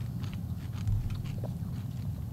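Granola being crunched while eating, close-up bites and chewing with a few crisp crunches over soft mouth noise, no talking.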